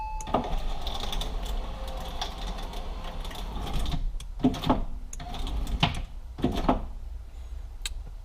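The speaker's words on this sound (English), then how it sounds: "So now we're ready to run the window back up." A window regulator motor in a 2004 Porsche Boxster 986 door raising the glass, a steady whirring mechanical drone for several seconds, then a few sharp clunks and rattles close by.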